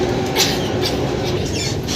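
Inside an elevated metro train with the doors closed, a steady rumble and rattle of the moving carriage fills the space evenly throughout.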